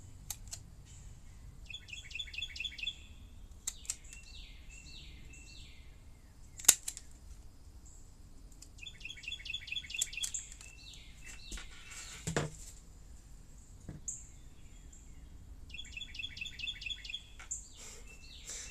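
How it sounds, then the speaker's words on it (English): Songbirds chirp in repeated bursts of quick tweets in a garden where wild Chickasaw plum trees are being propagated, with a few sharp clicks and handling noises in between and no talking. "Y'all hear these birds?"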